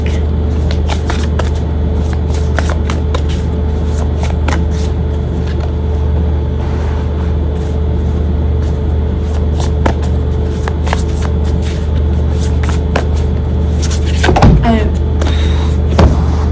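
Tarot cards being shuffled and drawn from a deck, a steady dense rustle of flicking cards running the whole time, with crisp snaps scattered through it, close and fairly loud.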